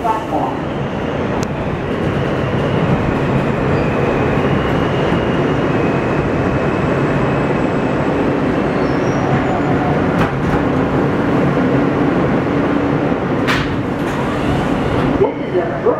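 A New York Z subway train rumbles at the platform, a loud steady mechanical drone with occasional sharp clicks and squeals over about sixteen seconds.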